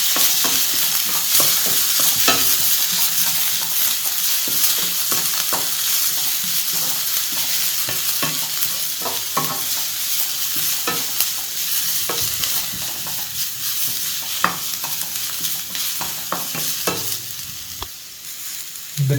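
Chopped capsicum stir-fried in a hot pan for street-style chicken fried rice, a steady sizzle broken by repeated scraping and tossing clatters of the spatula, close and continuous throughout.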